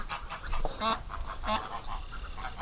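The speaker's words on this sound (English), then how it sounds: "that's actually probably the first time I've ever heard her quack" A domestic duck quacks twice in a farm pen near a barn, two loud nasal calls about half a second apart over a low rustling, windy background, with no speech.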